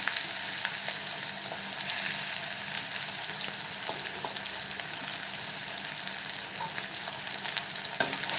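Chopped potatoes stir-fried with browned onions in a pan for spinach and potato bhaji, a loud, dense, continuous sizzle with scraping stirring strokes throughout.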